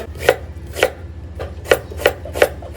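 A knife chops half an onion on a board, with about five or six crisp, close knocks falling at uneven intervals over a quiet background.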